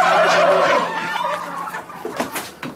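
Poultry at a coop in an Egyptian TV drama clucks and gobbles loudly up close, then the noise fades into scattered fainter calls.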